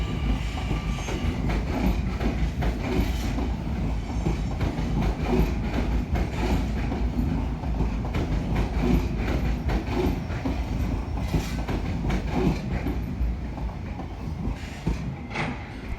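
NSW TrainLink D-set train built by Hyundai Rotem running on rails, a steady loud rumble with rhythmic wheel clatter and track noise throughout, heard close by with no talk.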